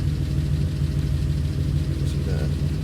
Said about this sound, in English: car's idling really well now